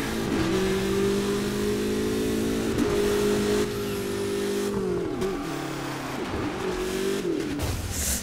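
A car engine in the racing video game Burnout Paradise roars loudly as it accelerates and shifts through gears, with rising, steady revs, a few dips between gears, and faint background game effects.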